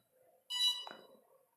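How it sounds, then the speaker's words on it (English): A single electronic beep from the ESC motors of an S550 hexacopter drone with a Pixhawk 2.4.8 flight controller during calibration, a short bright tone followed by a brief softer chirp, heard close and clear. "we should hear the motors beep"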